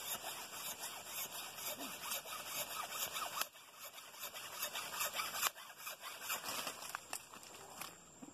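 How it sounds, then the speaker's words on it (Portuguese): A hacksaw rasps back and forth through a mango tree branch in a steady rhythm, close and scratchy, with a couple of brief pauses between strokes. "eu utilizo um arco e serra"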